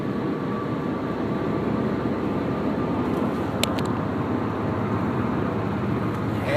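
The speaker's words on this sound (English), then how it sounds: "You can hear the road noise." Steady tyre and road roar from a car cruising at about 65 mph with a shaking steering wheel after brake repairs, a continuous low drone inside the cabin with a couple of faint high clicks.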